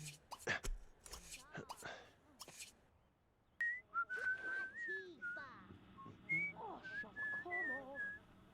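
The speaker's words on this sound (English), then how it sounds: "I like Nancy's whistle." A Sims 2 character whistles a wavering, cheerful tune in the game, a string of short notes after some soft whispery voice sounds.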